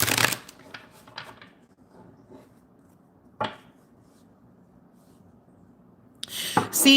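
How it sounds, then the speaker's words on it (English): Tarot cards being shuffled by hand during a reading, a few quick papery riffles at the start, then soft scattered handling and a final burst of shuffling, close and fairly quiet with no talking. "I shuffled and the Ten of Wands stayed there"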